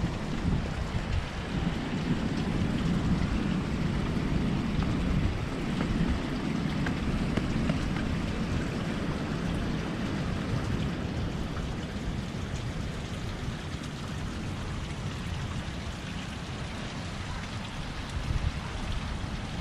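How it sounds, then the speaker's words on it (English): Water running across a beach and dissipating into the sand, a continuous broadband rushing wash that stays steady and fairly close throughout, with no voices over it. "There's that much water running right there and it just dissipates to nothing."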